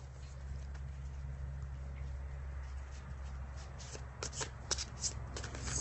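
Brand-new Butterfly Oracle cards are shuffled close up, starting as a soft, continuous riffling and growing into sharper, louder flicks and snaps near the end, with no talking.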